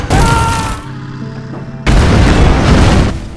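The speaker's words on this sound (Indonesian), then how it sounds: "Tembakan kedua terjadi ledakan yang sangat amat dahsyat." A loud, booming explosion bursts out with a heavy rumble, followed by a second powerful blast that roars and fades slowly.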